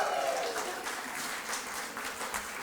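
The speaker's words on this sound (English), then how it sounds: "It's always nice to get applause just for being who you are." Audience applause at the 87th annual Maria Moors Cabot Prizes ceremony, a steady wash of many hands clapping at moderate loudness, with a faint voice over it at the start.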